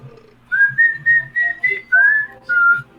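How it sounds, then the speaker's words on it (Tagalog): A person whistles a short melody of about eight clear, sustained high notes in quick succession, loud and close against a quiet background. "wag ka sumipol, please"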